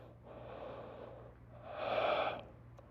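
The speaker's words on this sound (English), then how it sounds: "Breathing for 1." Two slow, audible breaths during a gentle yoga flow, a soft inhale then a louder, breathy exhale, close to the microphone with faint background hum.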